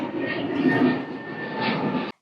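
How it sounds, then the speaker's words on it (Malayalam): An airplane engine drones steadily overhead in Jaipur, a broad roar that swells and fades slightly over about two seconds before cutting off, with no talking. "അതേ ഫ്ലൈറ്റ് പോകുന്നത്"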